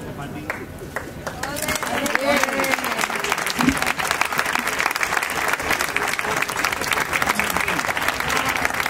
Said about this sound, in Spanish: Un fuerte aplauso para ellas dos